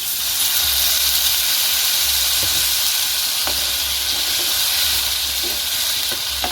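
Water added to a pan of oil-free breakfast food hisses and sizzles with a loud, continuous steamy roar, with faint clicks of stirring scattered through.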